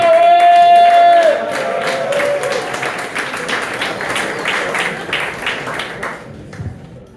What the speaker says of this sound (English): Start clapping it up one more time right now for John Ferry!